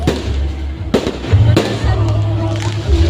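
Fireworks boom and crackle at a distance at a festival in Nasugbu, with several sharp bursts and a low rumbling continuous background, faint crowd murmur underneath.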